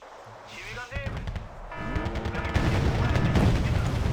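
Artillery rounds landing in the Wargame: Red Dragon video game, a rolling series of booms and rapid firing that builds into a dense, loud barrage, with someone talking over it.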